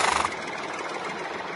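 Tractor engine drifting off into the distance in a layered sound mix, a steady broadband rumble that stays even and moderately loud after a brief louder burst at the start.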